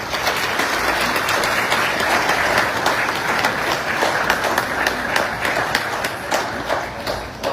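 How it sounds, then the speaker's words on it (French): Sustained audience applause at a formal Haitian education assembly, steady and dense with scattered sharper claps, continuing without pause for several seconds and filling the hall. "Applaudissons une fois encore Maître Axel Joseph"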